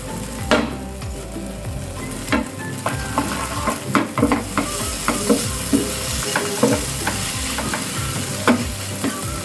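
Whole cumin sizzles in a pan alongside softened tomato and onion while making palak paneer, a steady close frying hiss marked by frequent scraping and clattering stirs against the pan.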